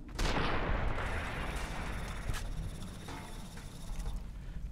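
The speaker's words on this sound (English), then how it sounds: "This shotgun is incredible." Shotgun blasts in Fallout: New Vegas: a loud opening shot with a long decaying tail, followed by a few more reports over rumbling game ambience.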